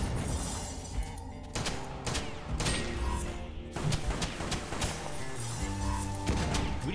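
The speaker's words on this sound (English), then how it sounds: "Oh no, oh that's a bomb" Chaotic video game combat in the western shooter West of Dead, with a bomb going off among loud repeated crashes, shattering bursts and gunfire-like impacts layered over a continuous music and effects bed.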